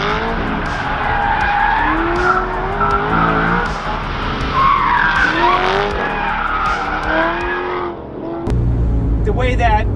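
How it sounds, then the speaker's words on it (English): An LS3 V8-powered ND Mazda Miata on track, tires squealing from inside wheel spin as the engine roars close up, a sustained screech with pitch shifts before a brief drop and a fresh burst; someone talks over it. "some inside wheel spin"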